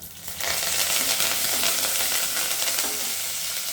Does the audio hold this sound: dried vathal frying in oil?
yes